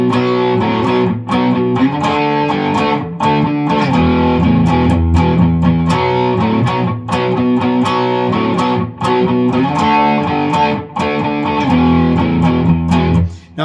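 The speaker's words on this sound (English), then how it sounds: "it would sound something like this if you try to do it live with a single guitar" A single electric guitar plays a chunking rock section live, loud, distorted rhythmic chords hammered on the root with brief choked gaps between phrases, close and with no talk.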